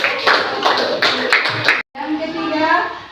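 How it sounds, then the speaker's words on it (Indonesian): Students in an Islamic studies classroom give a short burst of clapping over a teacher's voice, followed after a brief gap by more talking. "Berikan aplaus dulu untuk"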